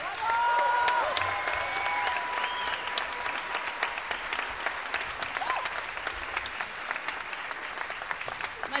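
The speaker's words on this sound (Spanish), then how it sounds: "aplauso enorme, por favor" Concert audience applauding at a festival performance by a singer and her band, a dense wash of clapping that swells loudest at the start and then settles into steady, slightly thinner ovation with faint crowd noise.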